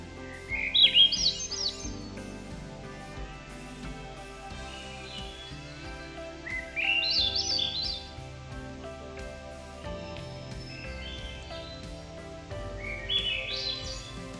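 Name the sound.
thrush song, echoey fluty bird call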